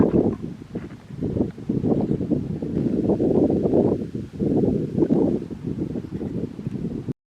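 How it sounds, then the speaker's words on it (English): A steady crosswind of about 8 to 10 miles an hour buffets the microphone at an outdoor muzzleloader shooting range, a continuous low rumbling roar that rises and falls in gusts with no voices. "Now you can probably hear the wind."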